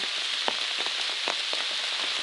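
Steady, hard rain falls in the dark on a night hike in the Hundred Mile Wilderness, a dense, continuous hiss that fills the background. Occasional louder drops patter close by, and no one speaks.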